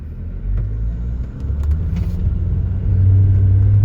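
A Mahindra Scorpio-N automatic accelerates towards 100, its engine a steady low rumble heard from inside the cabin that grows slightly louder and deeper as speed builds.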